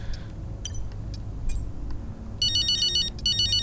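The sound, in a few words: phone ringing in the video game F1 Braking Point 2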